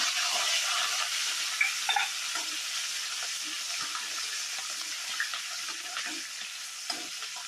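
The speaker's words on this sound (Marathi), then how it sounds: "आता हिरवी मिरची टाकूया." Green chillies hit hot oil in a pan for a puffed-rice breakfast dish, giving a steady close sizzle and frying crackle with small pops and stirring clinks throughout.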